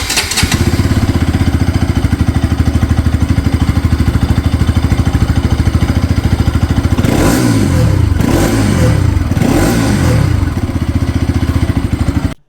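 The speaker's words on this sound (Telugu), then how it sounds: "ఇంకా ఈ బైక్ ఎగ్జాస్ట్ డిజైన్ చూడడానికి ఎలా ఉంది, షార్ట్ అండ్ స్టబ్బీగా, సౌండ్ వినడానికి చాలా బాగుంటుంది," A Bajaj Pulsar RS 200 motorcycle with a short, stubby exhaust idles with a loud, steady rapid throb, then revs sharply three times before settling back, close and alone.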